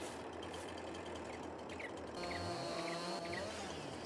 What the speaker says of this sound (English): So we're gonna bring the truck over